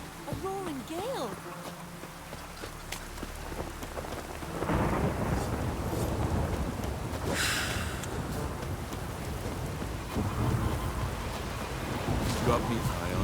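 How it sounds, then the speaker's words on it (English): A thunderstorm with wind and rain in The Witcher 3: a steady roar of heavy rain and gusting wind builds after a brief spoken line, with low rumbling thunder swelling and fading throughout. "A roaring gale."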